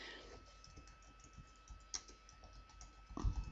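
Typing on a computer keyboard to fill in a text box, with soft, quick key clicks in an uneven run and a slightly louder flurry near the end, alone with a faint background hum.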